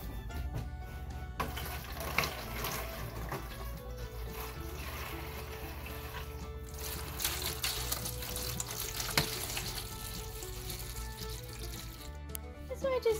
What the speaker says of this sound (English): So I just filled it up about 1/2 inch or so of water